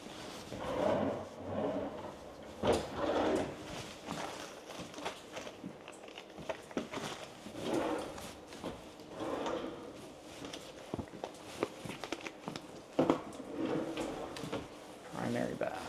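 Kitchen drawers in a house being searched for a key, sliding open and shut in a string of clattering knocks and thuds, mixed with footsteps under people talking.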